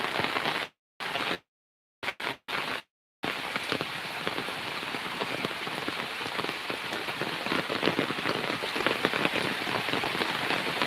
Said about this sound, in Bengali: কী পরিমাণে বৃষ্টি দেখেন দর্শক